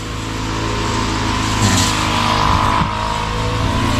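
A small gasoline grass cutter engine revs steadily and loudly up close, holding a continuous droning buzz with a slight swell in the middle, no voices over it.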